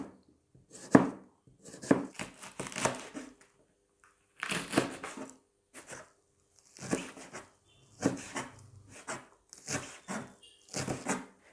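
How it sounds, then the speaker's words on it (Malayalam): A knife chops chicken into small pieces on a board in a series of close, crisp bursts of rapid cuts separated by short pauses, with no voices. "ഇതാദ്യം നമുക്ക് ചെറിയ പീസായിട്ട് കട്ട് ചെയ്തെടുക്കാം."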